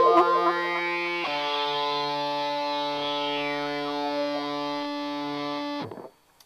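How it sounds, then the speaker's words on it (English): Guitar played through a Line 6 HD147 amp with a sweeping echo effect: sustained, distorted notes ring out with a swirling, shifting repeat tail, then cut off abruptly near the end. "and a sweeping echo"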